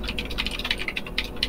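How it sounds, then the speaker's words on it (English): Rapid clacking of keys on a mechanical keyboard, a close, busy run of irregular taps with no pauses. "We can hear all of your keystrokes."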